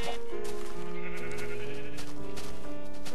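Sheep bleating in the Minecraft video game, a long drawn-out bleat followed by more wavering bleats, loud and up close over steady background sound.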